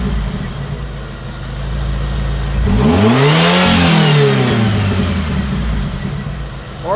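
A Jeep engine with a modified fuel injection map revs at partial throttle, a loud close roar that rises in pitch then sweeps back down and settles into a steady drone.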